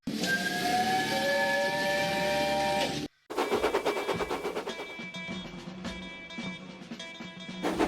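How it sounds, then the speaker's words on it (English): A steam locomotive's whistle sounds as a long, steady, loud tone for about three seconds. After a brief break, a hissing, chuffing engine noise follows, with the whistle tones continuing underneath. "she then heard an unfamiliar whistle"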